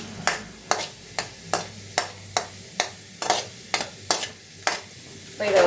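Garlic and tamarind frying in a pan for a chutney, a soft sizzle beneath a regular series of sharp spatula strikes about every half second, close and crisp, with no talking.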